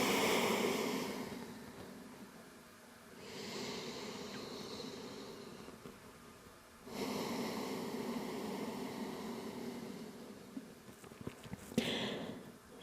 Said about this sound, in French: Et on prend quelques respirations ici.